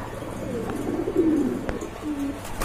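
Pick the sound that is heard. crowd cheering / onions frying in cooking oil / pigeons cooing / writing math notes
pigeons cooing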